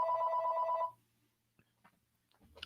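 A telephone bell rings loudly and steadily for about a second, then cuts off, leaving near silence broken by a few faint clicks and rustles.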